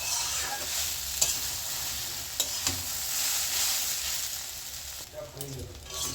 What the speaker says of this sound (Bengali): আবারও এটা ভালো করে মিশিয়ে নিচ্ছি আলুর সাথে চাউমিনটা।